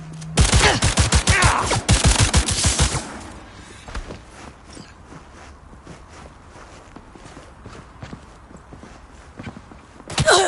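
Rapid bursts of automatic gunfire in the video game Cyberpunk 2077 crack loudly for about three seconds, then give way to quieter scattered impacts and rumble before another burst erupts at the end.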